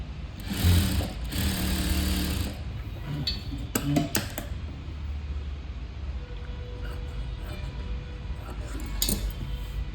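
Domestic sewing machine stitching piping onto a blouse, a steady close mechanical whir through the first few seconds, followed by clicks and handling of fabric and tools, then quieter room tone.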